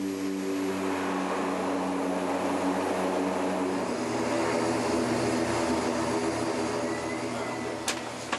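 Small propeller plane touching down on a tiny dirt airstrip ringed by trees at a mining site, a steady loud engine drone with the pitch dropping partway through as power is cut, then a couple of sharp knocks near the end.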